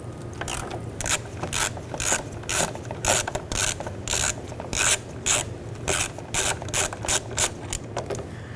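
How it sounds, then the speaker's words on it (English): Ratchet fitted with a 13mm socket loosening a rusty receiver hitch bolt on a 2013-2020 Nissan Pathfinder, heard as close, rhythmic clicking strokes repeating steadily throughout. "I'm going to use a 13mm socket."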